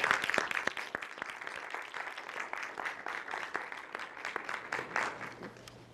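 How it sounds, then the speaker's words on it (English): Audience at the Gaithersburg Book Festival's Author Day claps to welcome an author forward, crisp individual hand claps in an uneven rhythm from a modest crowd, fairly close and steady throughout. "Let's welcome her with a hand of applause as she comes forward at this moment."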